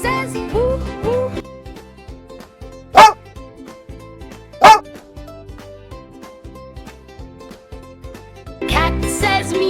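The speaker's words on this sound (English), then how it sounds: "Dog says woo woo." Two sharp, short dog barks ring out over a bouncy synthesized children's song, standing clearly above the music.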